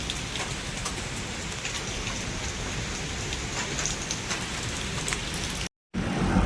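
Steady rain falls in a Munnar forest, a dense, even hiss of drops on leaves and surfaces that continues with only a very brief break. No speech is heard.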